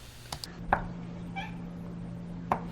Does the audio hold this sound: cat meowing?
yes